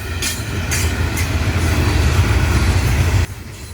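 A CSX freight train of loaded rock and cement cars, mostly Titan lime rock aggregate loads out of Medley heading north, rumbles steadily past near Fort Lauderdale, Florida, with a heavy continuous low roar that cuts off abruptly near the end.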